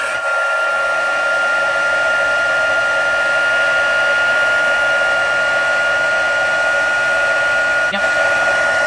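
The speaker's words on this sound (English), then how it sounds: "And then just need to heat set it." Heat tool blows a steady, loud, even whoosh while heat-setting stamped ink on vellum for Christmas cards, running unbroken for several seconds with only a faint tap near the end.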